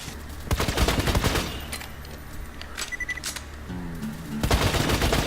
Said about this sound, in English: It's a full auto sniper rifle.